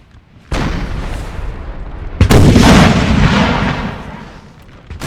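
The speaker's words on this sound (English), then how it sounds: "still shelling down here as well with their 12-pounders." Artillery cannons, 12-pounders among them, firing in a Napoleon Total War battle: two heavy booms about two seconds apart, each with a long rumbling tail, loud and close.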